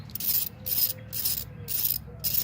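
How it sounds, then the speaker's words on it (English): Hand ratchet snugging the lift bolts on a 2005 Toyota Corolla XRS, heard as five or six short bursts of rapid clicking separated by brief pauses, close and moderately loud with no talking. "now you want to go ahead and tighten these"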